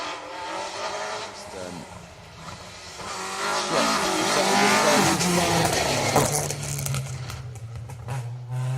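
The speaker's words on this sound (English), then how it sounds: "And there is that fantastic looking Cadet GTE of Pat Johnson and Kevin Barden." A Cadet GTE rally car on an asphalt rally stage in Argyll, its engine rising and falling as it revs through the gears and passes by, with commentary talk over the engine.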